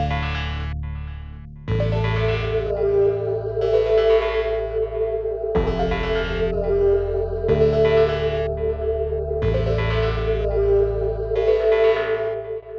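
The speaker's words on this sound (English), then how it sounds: "I set the tone of overdrive to dark, and I added a chorus and an instance of echo" A melodic techno synth line with dark-toned overdrive, chorus and a 16th-note ping-pong echo plays bright, repeated chords that ring and trail into delays, loud and alone.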